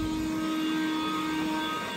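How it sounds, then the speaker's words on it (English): A blower runs near German Shepherd puppies, giving a continuous, even droning whoosh with a steady hum that holds at one level throughout. "See how they react to the blower."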